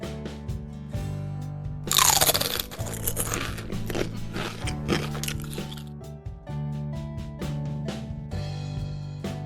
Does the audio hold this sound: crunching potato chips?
yes